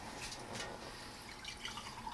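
Coconut jello liquid poured through a handheld strainer into a big bowl, giving a steady soft trickle and patter of dripping liquid, faint and continuous with no talk.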